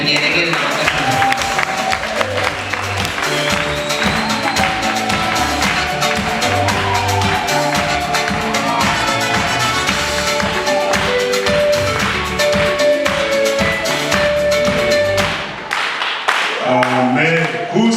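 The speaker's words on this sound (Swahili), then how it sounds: "ukampigia Bwana Yesu makofi na vigelegele" A congregation at a church conference in Magu claps and ululates in praise, a dense, steady wall of hands and high trilling voices that stays loud throughout, then briefly dips near the end.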